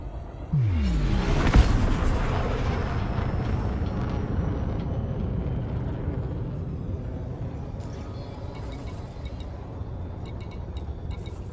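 A spaceship lifts off in Elite Dangerous: a loud rumbling roar builds suddenly after a sweeping tone, then settles into a steady, continuous engine drone.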